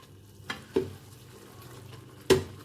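Peeled tomato masala sizzles faintly in a pan for Pakistani aloo chicken shorba, with a few sharp spoon knocks and scrapes against the pan.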